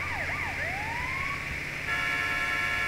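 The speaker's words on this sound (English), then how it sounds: "Oh, very realistic horn." Emergency vehicle siren in GTA V, a wailing and yelping tone sweeping up and down for about two seconds, then shifting to a steady blaring tone, loud and close without speech.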